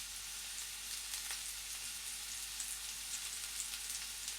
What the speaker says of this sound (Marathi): मी 1 चमचा हळद टाकून घेत आहे, छोटा चमचा. हळदही छान तेलात मिक्स करून घ्यायची.